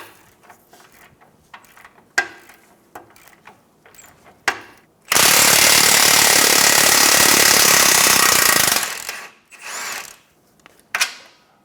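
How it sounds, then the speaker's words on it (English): A 22mm socket on a power tool, likely an impact wrench, spins out a front control arm bolt on a 2014-2019 Toyota Highlander in one loud continuous burst of about four seconds, surrounded by scattered clicks and clunks of handling metal parts. "Using a 22mm socket, remove the 2nd bolt on the control arm."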